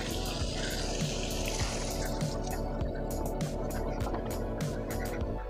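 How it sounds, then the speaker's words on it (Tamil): Water pours steadily into a cooking pot of drumstick and potato curry, a continuous close splashing and gurgling rush that runs without pause. "இப்போ இந்த காய் வேகிறதுக்கு தேவையான அளவு தண்ணியை ஊற்றிக்கலாம்."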